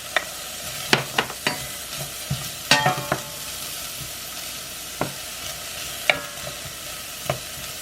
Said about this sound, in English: Now I'm going to add my onions.